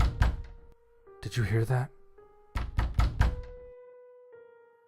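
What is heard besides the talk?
pounding knocks on a bomb shelter door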